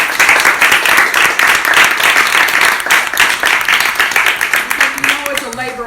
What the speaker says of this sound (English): So can we give Mary another applause?